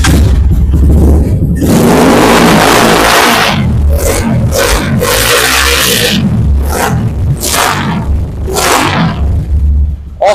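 A YCR 250 sports motorcycle engine revs hard and loud throughout, with roaring bursts that rise and drop in several repeated pulls, recorded close by.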